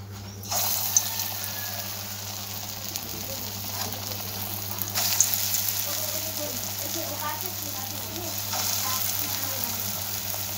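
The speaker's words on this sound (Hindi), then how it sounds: "तेल गरम हो गया, अब मैं इसमें वो पीसी हुई दाल को डालती हूँ" Ground masoor dal batter hits hot oil in a home kitchen, setting off a sudden, steady sizzle that hisses on at close range with small clinks of utensils.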